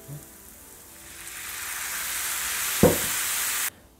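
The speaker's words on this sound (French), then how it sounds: "on va pouvoir ajouter du vinaigre balsamique pour déglacer le tout" Balsamic vinegar hits a pan of browned lardons and onions, setting off a loud, steady sizzle that swells and holds for a few seconds, with a brief clack partway through before the hiss cuts off abruptly.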